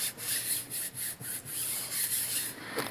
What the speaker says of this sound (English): So just smooth it out, kind of burnish it in with your fingers.